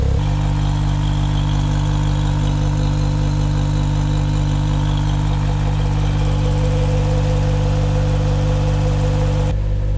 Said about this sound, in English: I think this is the smoothest I've ever heard my engine run.